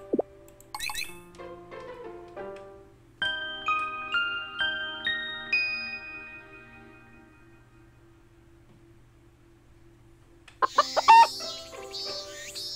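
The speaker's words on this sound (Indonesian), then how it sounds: "Sekarang ada suara ayamnya ya." Chickens clucking in the farming game Harvest Moon Light of Hope, heard as a series of clean synthesized cluck and chime notes in a steady rhythm, then a pause before a brighter burst of game sounds near the end.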